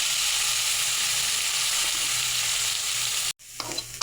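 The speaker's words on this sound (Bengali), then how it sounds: "আর এখানে চিংড়ি মাছ সব একসঙ্গে লাল করে ভেজে নেব।" Prawns and onion fry together in a pan with a loud, steady sizzle and stirring scrapes that stop abruptly just after three seconds, then a quieter sputter and clatter resumes.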